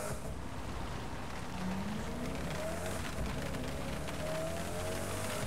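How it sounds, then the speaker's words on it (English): Rain in Saints Row The Third makes a dense, even hiss that runs without a break, with faint low tones drifting underneath. "Some weird sounding rain,"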